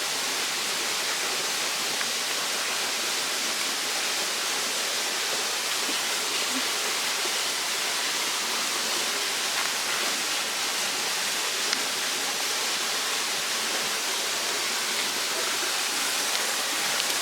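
A rainforest waterfall in Australia pours in a steady, even roar of broadband rushing water that stays constant from start to end, with no voices over it.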